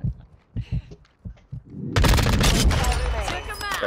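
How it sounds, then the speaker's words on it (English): Dense Call of Duty Warzone gunfire erupts suddenly after brief talk, a loud sustained barrage of overlapping shots and booms from close by with voices under it. "Got two of them up there shooting me from inside."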